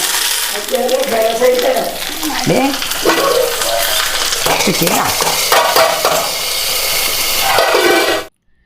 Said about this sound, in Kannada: ಇವಾಗ ಒಗ್ಗರಣೆ